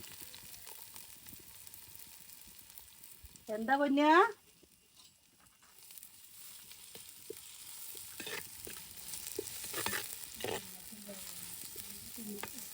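A loud burst of sizzling as fennel seeds drop into hot oil, settling into a quieter fry while a person talks over it, while cooking a beef curry.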